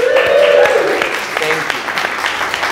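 A live audience at an onstage conversation cheers and applauds, a loud dense wash of claps with whoops that fades slightly while a voice talks over it.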